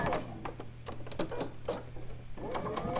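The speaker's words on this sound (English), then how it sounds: "So I'm sewing those 2 together." A sewing machine stitches two quilt block pieces together in quick, uneven bursts of rhythmic clatter with a steady motor hum, close and fairly quiet throughout.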